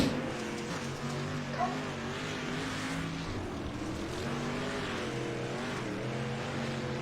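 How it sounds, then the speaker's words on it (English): Race car engines rev and drone at a dirt track event in Kokomo, heard from a distance as a steady, fairly faint roar with rising and falling pitch. No voices are audible. "you can hear the motors kind of revving in"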